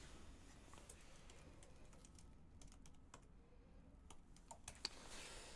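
Quiet keyboard typing at a computer, a scattering of soft clicks and key taps over a steady background hiss, fairly faint and without talk.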